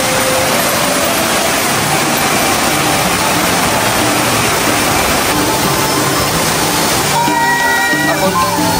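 A waterfall roars steadily at Pura Taman Pecampuhan Sala, a Balinese temple, as a dense, loud, unbroken rush of falling water close by, with faint tonal sounds entering near the end.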